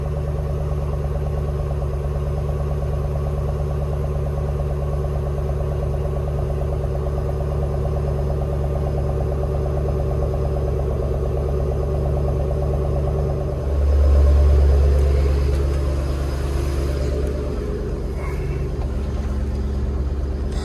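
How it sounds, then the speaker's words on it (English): A Shelby GT Mustang V8 engine on a cold start, settling into a steady, loud, rumbling idle with a brief deep surge in the middle before evening out again. "First try with the cold start."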